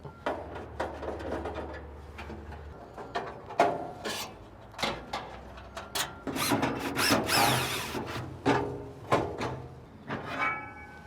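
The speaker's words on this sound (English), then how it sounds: "You can do this by undoing the 4 screws on the bottom of the plate." Screws being undone from the bottom plate of the smoke box assembly on a Camp Chef Woodwind Pro pellet grill, heard as a close series of short scraping, rasping tool turns and clicks with brief pauses between them.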